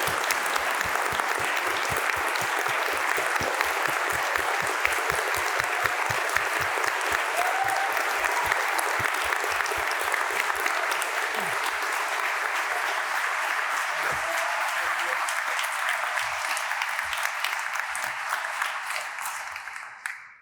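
Sustained audience applause welcoming Formula 1 team boss Guenther Steiner onstage, a dense steady clapping crowd that holds for about eighteen seconds before tapering off, with no talking.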